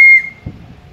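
A single shrill, high toy whistle blast sounds sharply at the start, then cuts off, leaving faint room noise.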